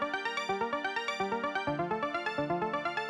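Synth arpeggiator in Ableton Live running 16th notes, a rapid, even stream of short bright plucks cycling through chord tones, quiet and clean, with the pitch pattern shifting midway.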